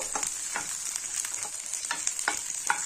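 Dried chillies for garlic chutney sautéing in hot oil, a steady close sizzle with repeated scraping stirs of a spoon against the pan, no voices.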